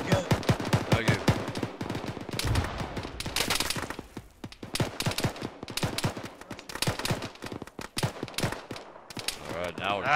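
Rapid bursts of automatic machine-gun fire in the Arma military shooter, loud and dense, with repeated volleys and short pauses, some distant crackling under the near shots.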